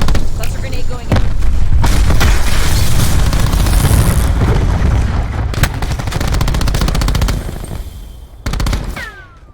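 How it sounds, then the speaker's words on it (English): A cluster grenade goes off in an online shooter match, a loud burst of booming blasts and rapid crackling gunfire filling most of the stretch before tapering near the end. "Cluster grenade going in."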